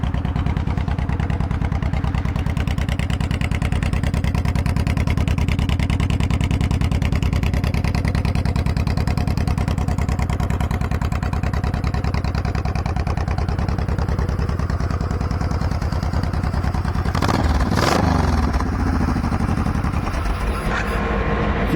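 A 2005 Honda VTX 1800 F3 motorcycle engine idles loud and close, a steady throbbing rumble that runs throughout, with a few sharp clicks or knocks near the end.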